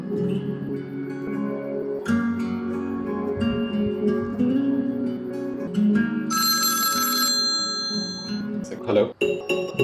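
A telephone rings indoors in a home drama scene, a bright repeating electronic ring lasting a few seconds, heard under steady conversation and background music.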